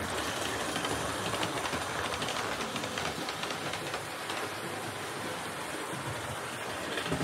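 A Hornby GWR model express passenger locomotive runs on its track, giving a steady, even whirring rumble with faint rhythmic clicking that stays constant and close throughout.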